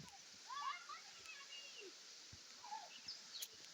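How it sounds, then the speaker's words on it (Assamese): River water flowing steadily beside a picnic spot among trees, a soft continuous wash with light splashes and a few bird chirps, under faint voices. "এই পানী ইমান ধুনীয়াকৈ আহি আছে"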